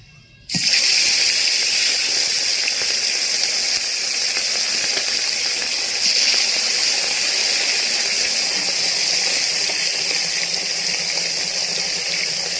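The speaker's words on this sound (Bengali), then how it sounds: "তেল গরম হয়ে গেছে, এবার আমি মাছ দিয়ে দেব।" Small puti fish drop into hot oil with a sudden loud burst, then a steady, strong sizzling hiss continues without pause.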